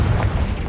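A Confringo fire spell explodes in Hogwarts Legacy on Nintendo Switch, a dense, loud low-end boom that fills the whole moment with no voice over it.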